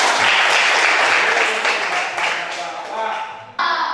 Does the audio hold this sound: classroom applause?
yes